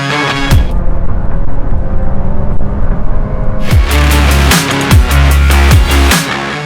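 A 2024 Volkswagen Golf 1.5 eTSI with DSG gearbox, R-line trim, drives along with a loud, steady engine and road rumble, the pitch sweeping with each gear change.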